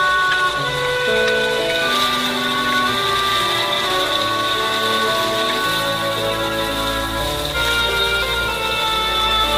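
Steady rain falling in a school garden, a continuous dense wash of drops heard alongside sustained tonal music, with no voices.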